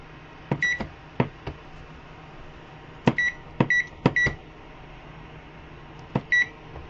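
An electric cooker being set to soup mode gives a series of short, sharp electronic beeps. They come singly and in quick clusters, with quiet gaps between them and no talk.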